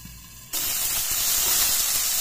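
Frying in a covered kadai over low gas: after a quiet moment, a loud, steady sizzling hiss bursts in abruptly and carries on close and unbroken.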